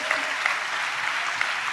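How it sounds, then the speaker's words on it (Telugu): A church congregation claps together during a sermon, giving a dense, steady wash of applause with a few sharper claps standing out across the short stretch. "చప్పట్లు కొడుతూ స్తోత్రాలు చెప్దాం"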